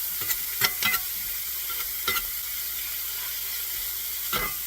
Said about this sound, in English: And then I'll start cooking my sausage.